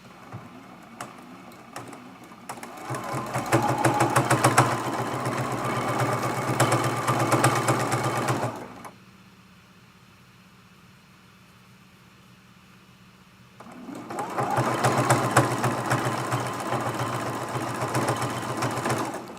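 A sewing machine stitches fabric for a layer cake pin cushion, whirring in two steady runs with several seconds of near silence between them, close and moderately loud.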